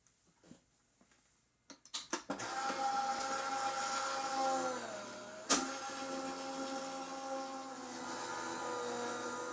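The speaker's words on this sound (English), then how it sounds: "I do already have it in the die cutting machine, so we will go ahead and run that through." Electric die cutting machine feeding cardstock through its rollers: a few clicks, then a steady motorized whir with a sharp clunk midway as the plates pass, humming on close by.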